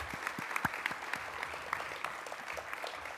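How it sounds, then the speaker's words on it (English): Steady, moderate applause from an audience honoring recognized Floridians at a disability pathways event, an even wash of many hands with occasional sharper nearby claps. "Please join me in giving these exemplary Floridians another round of applause."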